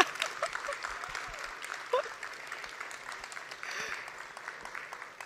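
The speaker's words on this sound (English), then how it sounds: "big round of applause to our contestants" Faint applause from an audience at a live pitch competition, a steady patter of clapping throughout with a few voices faintly audible.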